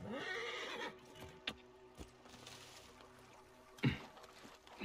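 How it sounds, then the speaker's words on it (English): A horse in a video game whinnies and neighs over a steady run of clip-clopping hooves, with a few sharp thumps and a louder burst near the end. "I don't know where this horse was taking me."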